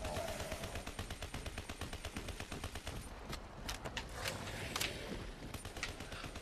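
Rapid automatic fire from the HD40 gun in Black Ops 3 Zombies, Zetsubou No Shima map: a steady, loud stream of closely spaced shots for about three seconds, then sparser, scattered bursts.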